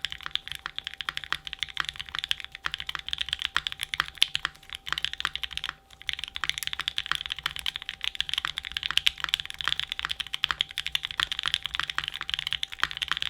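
Steady, close-up typing on a Geon F1-88X mechanical keyboard fitted with creamsicle Franken switches, a continuous patter of crisp, clacky keystrokes with a brief pause midway, heard alone without voices.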